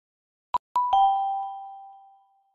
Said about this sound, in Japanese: なんか、ピンポンみたいなの来たんけど。